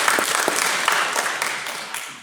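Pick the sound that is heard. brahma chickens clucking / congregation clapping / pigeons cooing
congregation clapping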